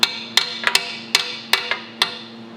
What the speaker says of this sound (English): I have to come in here with my hammer, and I gotta just